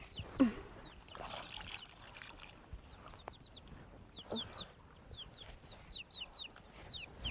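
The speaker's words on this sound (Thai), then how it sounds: "เป็ดไก่หิวละ" Hungry ducks and chickens on a rural farm in the evening cluck and peep in quick, high, scattered bursts, fairly faint against a breezy outdoor background.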